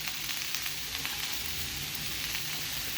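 Tomatoes sauté in a pan, salted, giving a dense, even sizzle and crackle that holds steady from start to finish, close and fairly loud.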